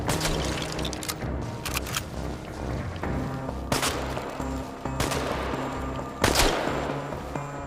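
Gunfire in the video game ChernobyLite Enhanced Edition, with sharp shots and bursts arriving every second or so, each followed by a short ringing decay, loud and close over a low humming game background with no talk.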